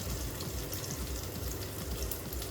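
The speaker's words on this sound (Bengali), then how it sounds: "হলুদ দিয়ে বড়িটা একটু ভেজে নেব।" Bori lentil dumplings frying with turmeric in a pan, giving a continuous soft sizzle and crackle at low, even level with no talking.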